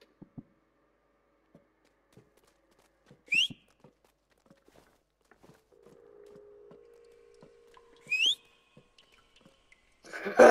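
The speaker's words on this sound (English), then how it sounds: "Press triangle to whistle at it." A Roblox character gives two short, bright rising whistles several seconds apart, clear and fairly loud against near silence broken by soft clicks and a faint low hum.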